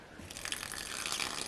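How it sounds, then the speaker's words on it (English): Water from a just-opened tap runs with a soft, steady hiss and splash that swells slightly, faint and alone without any voices. "I can still reach in here, open the tap, stand out of the way,"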